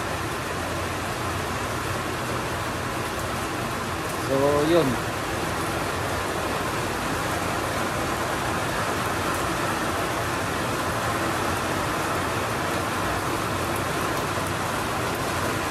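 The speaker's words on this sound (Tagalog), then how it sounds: "Sakto pagpasok natin ng bahay, biglang bumuhos yung hailstorm." Steady heavy rain and hail pour down outside a house, a dense continuous hiss of small hailstones and water, with a brief voice near the start.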